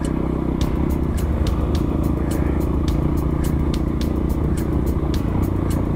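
Motorcycle engine labouring up a steep trail, a loud, steady close rumble with rough mechanical clatter and sharp ticking knocks throughout, no talk.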